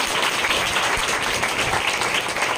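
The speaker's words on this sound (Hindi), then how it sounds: "ताली बजाएं प्यार के लिए।" An audience clapping at a Hindi-speaking gathering: dense, continuous applause that holds at a steady, fairly loud level throughout, with no voice heard over it.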